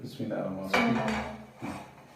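A metal pan clanks down onto a stovetop with a short ringing knock, followed by a softer second clatter, with faint voices nearby.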